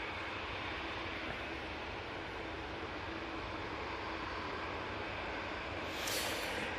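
Continuous loud roar of an EasyJet Boeing 737-800 at Manchester Airport, steady jet engine noise filling the whole stretch, with a brief rise in high hiss near the end.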